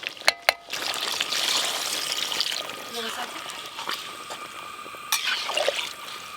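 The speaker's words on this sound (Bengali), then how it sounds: "এবার জল দিয়ে দেবো" Water poured into a pan of browned, spiced chicken kosha, making a steady hissing rush for a few seconds that fades, then a brief second swell near the end.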